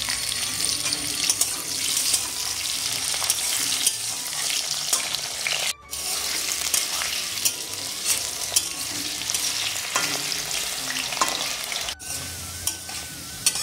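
Potato pieces and slit green chillies fry in oil after a five-spice tempering, with a continuous sizzle. A spatula scrapes and stirs them with repeated clattering strokes, and there are two brief gaps in the sound.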